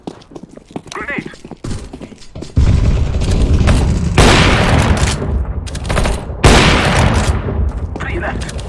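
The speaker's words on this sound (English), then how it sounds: "Grenade!" Counter-Strike: Global Offensive match on the Mirage map, with chaotic gunfire and a heavy grenade blast that sets off a loud rumbling roar, followed by a second boom amid continued shooting.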